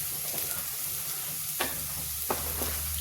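Spinach masala with asafoetida cooking in a pan for besan palak, a gentle continuous sizzle with a low hum and two or three spatula scrapes against the metal, close and moderately quiet.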